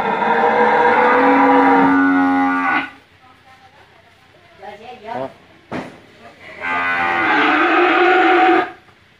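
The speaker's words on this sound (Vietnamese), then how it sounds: "Bò này to lắm nha, xương cối luôn nha." Large cattle in a farm pen in Tra Vinh moo loudly at close range, two long drawn-out calls separated by quieter shuffling and smaller noises.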